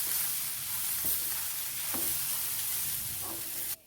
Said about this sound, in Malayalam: നന്നായിട്ട് നമുക്ക് ഇളക്കി കൊടുക്കാം.